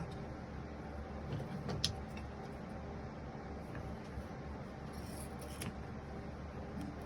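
Scissors cut through fabric for an adult clothing cover, or bib, giving a few soft snips and rustles over steady low room hum, with no talking.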